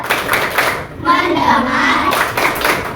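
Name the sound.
class doing a rhythmic concentration clap (tepuk konsentrasi)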